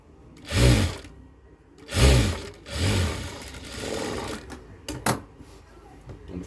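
Sewing machine stitching the lining of a blouse, running in a few short close bursts of whirring stitches separated by pauses, with a light clack near the end.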